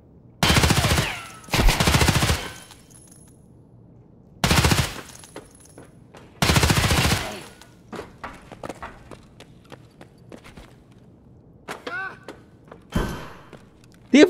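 Gunfire in Escape From Tarkov comes in four loud automatic bursts, each about half a second to a second long. Quieter footsteps and thuds follow, and a final short burst comes near the end.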